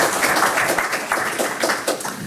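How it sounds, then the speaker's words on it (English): A crowd applauds at a City of Ann Arbor sustainability forum on electric vehicles: a short burst of dense, steady clapping from many hands, fairly loud and continuous with no talk over it. "Everybody give him a round of applause."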